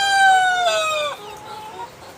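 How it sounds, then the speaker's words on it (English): A backyard rooster crows one long, loud call with strong harmonics, close to the listener, trailing off into quieter clucking at the end. "that's our rooster there"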